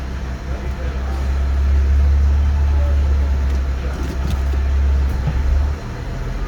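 A car's engine pulls hard under acceleration with Boostane octane booster added to its fuel tank, a loud, steady low roar that holds for about five seconds before easing off.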